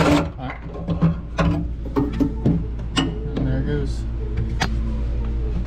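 An electric drill turning through a quarter-inch extension during a hydraulic pedal conversion on a Mk2 GTI runs in short whirring bursts, loud and close, mixed with clicks and knocks from the work.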